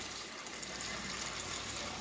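Water pours into a large cooking pot of beans being prepared for feijoada, making a steady, faint rushing gush that runs unbroken for about two seconds with no speech.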